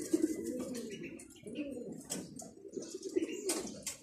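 Pigeons cooing inside a loft, repeated soft low coos from several birds overlapping at close range, fairly quiet, with faint chirps and rustling around them.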